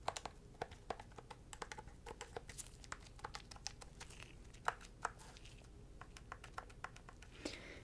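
Soft, close keystrokes on a computer keyboard in a quiet ASMR setting, irregular taps and clicks entering a code at a steady typing pace.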